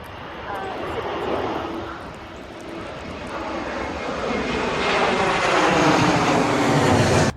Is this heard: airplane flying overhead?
yes